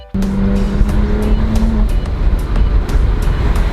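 BMW 1M accelerating hard, its engine a loud, steady roar close by with a brief tonal whine early on, sustained for a few seconds without talk.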